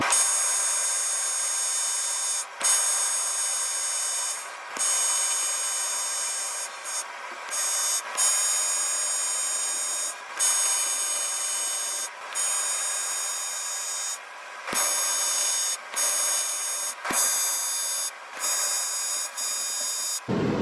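AC TIG welding arc at 120 hertz on a cracked aluminum wheel, a steady loud high-pitched buzz running almost continuously for about twenty seconds, broken by brief pauses where the arc stops and restarts.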